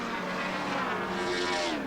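Nissan GTR race car on the back straight at Pukekohe Park Raceway in 1991, its engine note swelling into a loud, steady high-revving roar as it accelerates, with harmonics rising toward the end.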